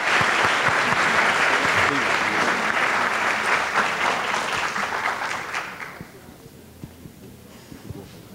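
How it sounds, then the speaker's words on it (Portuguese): Audience at an engineering students' conference in Brazil applauding a talk, a full sustained round of clapping that fades out over several seconds, with a little talk near the end. "eu solicito uma salva de palmas aí ao nosso..."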